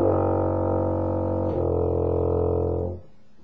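A sustained brass note played slightly sharp and out of tune, one steady, full-bodied tone holding for about three seconds before stopping cleanly, with a small shift partway through.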